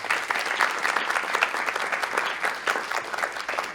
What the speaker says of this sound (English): Can we give them all the big round of applause?